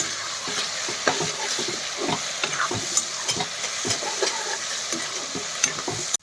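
Broiler chicken with ginger, garlic and chili dry-fries in a pan, giving a constant close sizzle punctuated by scraping stirs and soft clatters, with no one speaking.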